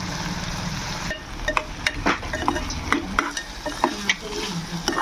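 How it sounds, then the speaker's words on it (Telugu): Ginger garlic paste fries with carrot and potato pieces for vegetable biryani, a close hissing sizzle overlaid with irregular ladle scrapes and clanks against the pan as it is stirred. "అల్లం వెల్లుల్లి పేస్ట్ పచ్చివాసన పోయే వరకు వేపుకోవాలి"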